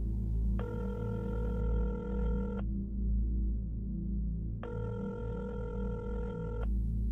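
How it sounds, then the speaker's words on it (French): Telephone tone ringing twice in even, sustained bursts with a pause between, steady and fairly close over a low background hum. "le seul bruit audible était la tonalité du téléphone"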